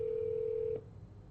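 A single steady telephone tone, as when a phone number is dialed for a cold call, holds clear and faint for most of a second before cutting off into quiet line hiss.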